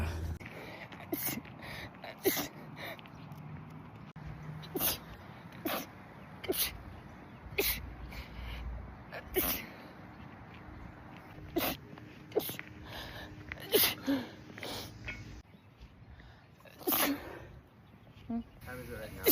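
A woman caught in a sun-triggered sneezing fit lets out a long run of sharp, quick sneezes spaced a second or two apart, fairly quiet and close, with brief murmured talk between them.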